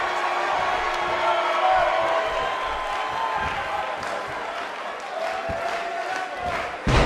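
A wrestling match crowd in Orlando cheers and shouts, a dense, continuous roar of many voices that stays loud throughout, with scattered whoops and thuds within it.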